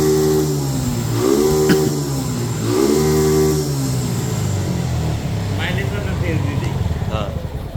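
A Suzuki Gixxer motorcycle fitted with a 150 cc Bajaj Discover carburetor, smoking from raw fuel entering the engine, revs up twice in rising and falling bursts, then settles into a rough, uneven idle close by.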